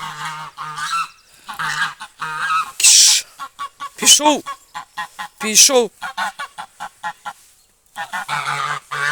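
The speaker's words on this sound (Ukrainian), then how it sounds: "Ось такі гуси. Гуси досить великі." Large white geese on a home farm honk loudly in repeated, nasal bursts, some calls overlapping and rising sharply, close to the microphone, while a person speaks briefly in between.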